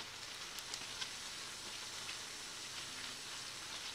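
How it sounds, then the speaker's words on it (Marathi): Cumin, mustard seeds and curry leaves are tempered in hot oil, giving a soft, continuous sizzle and hiss with a few tiny pops, faint and steady throughout. "त्याच्यात आता जिरं मोहरी घालून कढीपत्त्याची फोडणी घालणार आहे"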